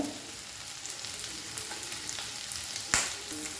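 Onion and green chilies frying in a pan, a soft continuous sizzle with small crackles and a sharper pop near the end, heard close and alone.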